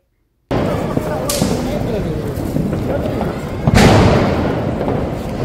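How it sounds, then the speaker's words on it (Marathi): Diwali firecrackers burst outdoors in a family celebration, with sharp cracks and a loud bang near the end over a constant background of crowd noise and chatter. "भरपूर जास्त फटाके वाजवलेले आहेत"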